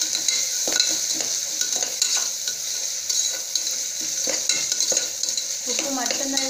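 Onions fry in a pan for white pulao, a steady sizzle under repeated close scraping strokes of a spoon stirring, moderately loud with no talking.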